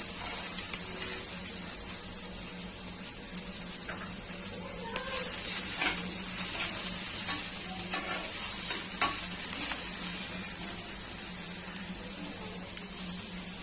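Half an onion fries in a teaspoon of oil for a Goan ross omelette, a close, continuous sizzle under intermittent spatula stirring and light scraping taps.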